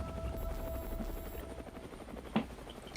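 A helicopter's steady rotor drone holds throughout at moderate level, with a brief louder burst near the end.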